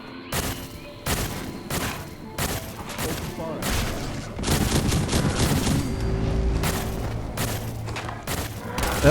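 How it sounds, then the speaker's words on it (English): The Accelerator Cannon fires in Fallout 4, a rapid series of loud, punchy blasts and booms with sharp onsets, followed by denser rumbling explosive impacts and game ambience. "Not only is the Accelerator Cannon a real punisher, but it's cool to fire something over your shoulder"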